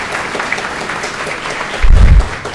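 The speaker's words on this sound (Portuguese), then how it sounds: "Recebe os aplausos dos senhores e senhoras." An audience at a solemn city council ceremony awarding honorary citizenship in Ibatiba applauds steadily throughout, with a dense wash of clapping that swells briefly near the end.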